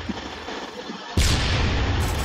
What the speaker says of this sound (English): Throwing bombs.